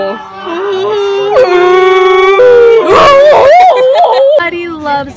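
A person imitates whale noises with a long, wavering, howl-like voice that rises and falls through several sustained swoops, loud and close.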